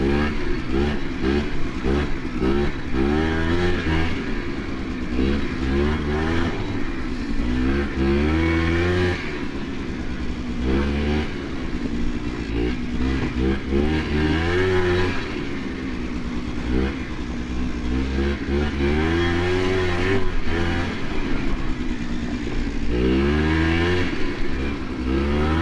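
Cheap two-stroke ATV engine revving hard while being ridden, a loud, continuous buzzing roar that rises and falls with throttle throughout, with no talk over it.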